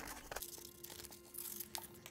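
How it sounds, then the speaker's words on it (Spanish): Scissors cutting leftover adhesive vinyl, quiet close crinkling and snipping with short crisp bursts scattered across a couple of seconds, no talk. "Con unas tijeras voy a cortar el sobrante"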